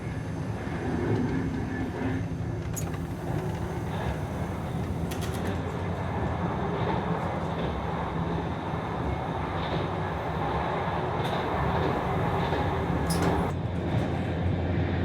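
Inside a Portuguese Alfa Pendular tilting express train running from Porto to Lisbon: a loud, continuous rumble and rush of wheels on track, with faint clicks and rattles throughout.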